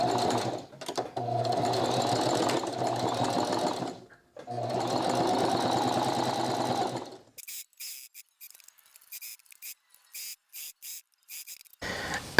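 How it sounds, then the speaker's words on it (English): A sewing machine stitching a basketball jersey: two long, loud runs of fast mechanical whirring separated by brief pauses, followed by a series of short clicking bursts as the fabric is adjusted. "I'm going to set up my thread and then we can get sewing"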